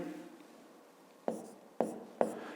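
Pen on a school notebook page while working a fifth-grade math exercise: three short, crisp scratching strokes in quick succession after a quiet pause, close and fairly loud.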